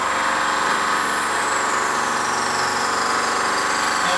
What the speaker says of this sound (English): You can hear the remaining material fluttering.